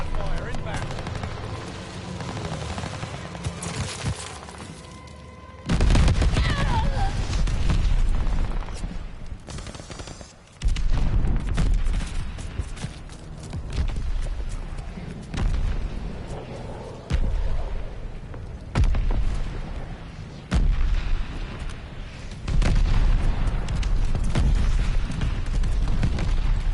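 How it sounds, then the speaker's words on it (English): Mortar fire and heavy explosions in a war video game land as a series of loud booming blasts with rumbling tails, separated by short quieter gaps, alongside ongoing battle noise. "Allied mortar fire inbound."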